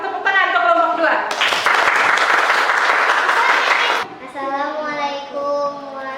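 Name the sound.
applause for group 2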